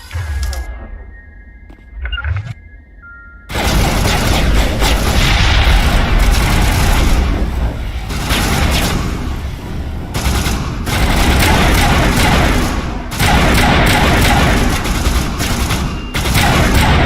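Sustained, loud gunfire erupts in Mass Effect after a quiet stretch with a voice and faint beeps, continuing as dense rapid volleys and booming shots that barely let up.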